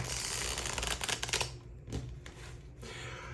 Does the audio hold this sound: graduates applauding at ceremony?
no